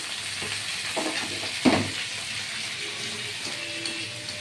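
Young green jackfruit pieces dropped into hot oil in a pan for a Bengali curry, giving a steady broad sizzle with a sharp clatter as they land and soft stirring scrapes, close and moderately loud, no talk.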